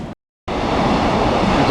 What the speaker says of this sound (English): There's a JR freight going by